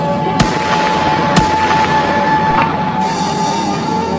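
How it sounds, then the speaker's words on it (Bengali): Rifle gunfire near a university main gate where police stand: two sharp, loud shots about a second apart ring out over a steady droning background. "আবারও গুলির শব্দ"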